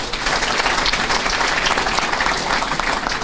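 A packed university lecture-hall audience at a conference on mining contracts at the University of Kinshasa bursts into dense, sustained applause, a loud, even roar of many hands with no voices rising above it.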